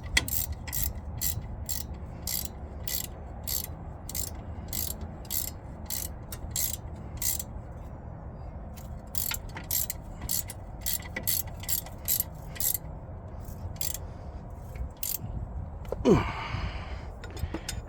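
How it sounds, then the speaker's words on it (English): A ratchet wrench clicks rapidly while tightening a bolt on the right front hub assembly of a 2017 Chevrolet Silverado 1500 pickup, in close, regular bursts of sharp ticks with brief pauses and a faint breath near the end. "Give it a little more with the double wrench just to make sure."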